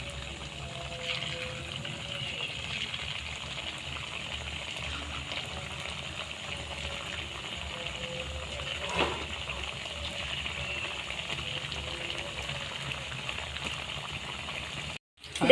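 Rice flour snacks fry in hot oil in a wok, giving a steady, fairly faint bubbling sizzle throughout.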